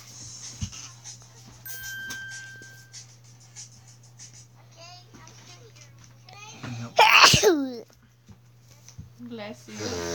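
A child sneezes once, loud and sudden, amid children's chatter and a steady electronic hum, with game chimes faintly in the background.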